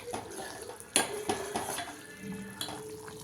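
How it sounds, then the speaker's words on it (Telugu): A pot of fish tamarind broth (pulusu) simmers at a boil, a faint watery bubbling broken by a few light clinks of a utensil against the pot. "మరుగుతుంది మంచిగా"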